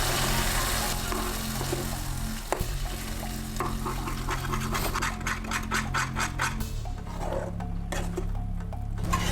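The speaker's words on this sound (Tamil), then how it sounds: "இப்போ இதில் நம்ம வேக வச்சுருந்த குதிரவாளி அரிசி அதை நல்லா கலந்துக்கலாம்." Cooked kuthiraivali millet rice being stirred through in a hot pan with ghee, oil and curry leaves for millet pongal, giving a steady close scraping and turning over a soft, continuous sizzle.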